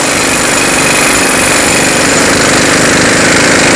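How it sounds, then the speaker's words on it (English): Impact wrench or power tool loosening the 36mm axle nut on a 2003-2012 Chevrolet Colorado 4x4, a loud continuous hammering rattle held steady for several seconds, close and alone. "Using a 36mm socket, remove the axle nut."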